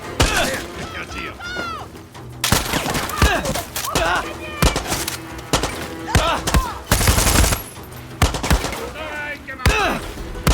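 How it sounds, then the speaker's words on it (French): Gunfire in Far Cry 6 combat, repeated loud bursts of shots with impacts and thuds, mixed with shouting voices and game dialogue. "Quelqu'un tire."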